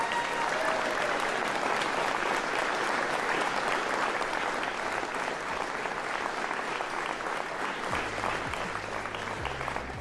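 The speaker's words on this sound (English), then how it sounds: "Let's give them a round of applause." Sustained crowd applause for local federal election candidates at the close of an all-candidates debate, dense and even for the whole stretch, easing slightly near the end.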